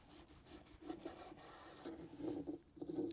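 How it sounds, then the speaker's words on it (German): Soft, quiet rasping strokes as a knife saws a slice from a cheese-stuffed rump roast, a steady run of short cutting passes with no talking. "Und ich schneide jetzt einfach mal hier so eine Scheibe runter."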